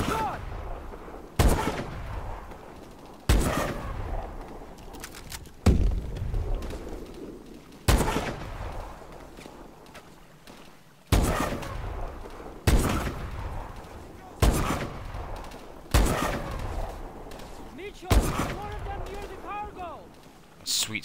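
Gunfire and sniper rifle shots in Call of Duty: Advanced Warfare, during a campaign mission: a series of sharp, loud shots roughly every two seconds, each with a decaying tail, while a voice talks in between.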